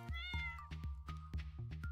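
Cat meowing in the Stardew Valley farming video game: a string of short, close meows with game music and clicks sounding beneath.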